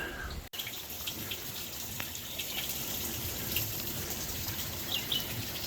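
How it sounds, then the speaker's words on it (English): Steady rushing water of a waterfall hisses in the distance on an Ozark Highlands Trail hillside, a constant broadband wash with faint chirps of birds above it. "The waterfall right at the very top."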